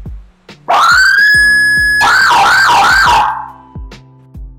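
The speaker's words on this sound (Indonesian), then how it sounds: "Untuk sirinenya kita menggunakan dua speaker" High-frequency siren from a Wellen speaker on a modified Toyota Hilux, very loud and close: a rising tone that holds steady, then switches to a fast warbling yelp for about a second before cutting off, with clicks around it.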